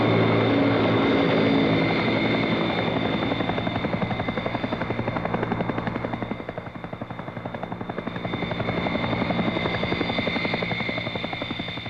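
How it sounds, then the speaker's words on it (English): A heavy twin-rotor Chinook helicopter drones steadily overhead, its deep rhythmic rotor thump and engine whine swelling and fading slightly, loud and continuous. "they're lifted in by Chinook helicopters of the brigade's Tactical Transport Company"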